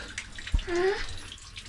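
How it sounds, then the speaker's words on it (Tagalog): Water splashes and gurgles as it pours into a crayfish tank on a farm, a steady close pour with a brief thump at the start and bubbling tones rising over it. "Lagyan natin tubig."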